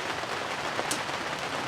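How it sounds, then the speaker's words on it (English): Rain pattering on a backyard shed roof: a soft, steady wash of faint drops with no clear rhythm, heard from inside and broken by one brief brighter tick. "maybe you can hear the pitter-patter of rain on the roof of my shed here"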